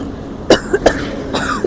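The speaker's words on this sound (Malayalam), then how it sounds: "രണ്ടാൾക്കും ചുമയാണ്" Two people coughing inside a vehicle on a long mountain drive, a cluster of short, close coughs in quick succession with a throat-rattling catch between bursts.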